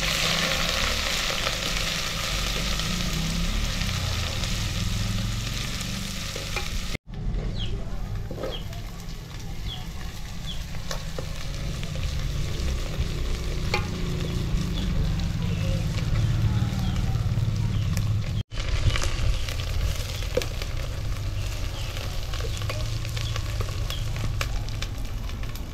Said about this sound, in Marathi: पहिल्यांदा आता कांदा टाकलेला आहे, कांदा आणि लसूण एकदम जबराट